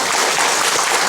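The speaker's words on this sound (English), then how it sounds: "Let's give another round of applause." An audience applauds after a talk on California history, a short, steady burst of dense clapping filling the room.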